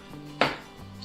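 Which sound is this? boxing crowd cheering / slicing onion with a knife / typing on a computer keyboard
slicing onion with a knife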